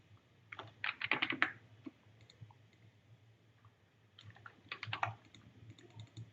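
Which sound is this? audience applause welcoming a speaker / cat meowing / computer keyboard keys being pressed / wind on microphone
computer keyboard keys being pressed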